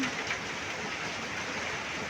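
Steady rain falling on a rainy morning at about 1:15 am, a dense, even hiss that stays constant and close with no gaps.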